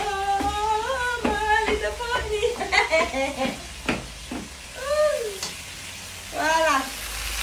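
Chicken sizzles and fries in a pan for chicken yassa, a soft crackle under a voice speaking in French, with brief pauses in her talk.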